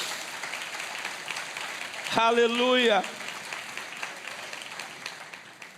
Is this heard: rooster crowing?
no